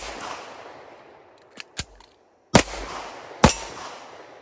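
A CZ 75 SP-01 handgun fired: two sharp, loud shots a second apart with echoing tails, preceded by a few small metallic clicks and taps.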